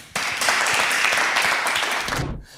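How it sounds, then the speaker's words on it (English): An audience at a live startup pitch event breaks into a dense round of applause that starts abruptly, stays full and even for about two seconds, then cuts off. "let's do it. With a round of applause."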